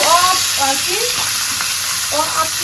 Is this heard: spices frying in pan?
yes